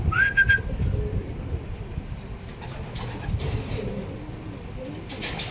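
Soft cooing of a racing pigeon at a club training session, mixed with rumbling handling noise and shuffling, with a brief higher whistle-like call near the start.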